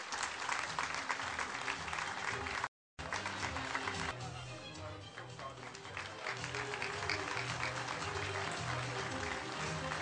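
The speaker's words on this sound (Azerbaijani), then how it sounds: "Elm və bilik yarışında müvəffəqiyyət kazanan Qafqaz Universiteti Pedagoji Fakültə Tərcümə bölümünün tələbəsi Flora Qafarovanı və Səfərli Kənanı alqışlarınızla səhniyə dəvət edirik" A large audience applauds at a Knowledge Day university ceremony: sustained, dense clapping that runs the whole way, cut by a brief dropout, with a low hum beneath.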